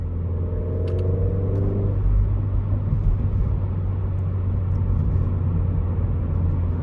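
A remapped 307-horsepower Renault Megane RS engine drones as a deep, steady interior rumble with a rising tone early on, then settles into a constant loud hum of road and engine noise.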